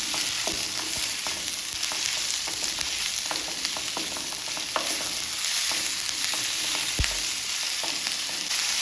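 Onion and capsicum frying in a pan for a village-style chapati capsicum gravy, a constant close sizzle with scattered stirring clicks and one sharp knock, no talk.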